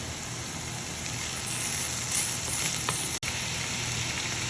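Finely chopped celery sautés in a pan for a red bean stew, a continuous even sizzle and hiss heard close, with a brief dropout near the end.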